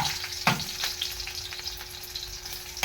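Garlic sizzling in hot oil in a pan, a steady close crackle and hiss broken by a couple of louder clatters near the start and end, with no voices.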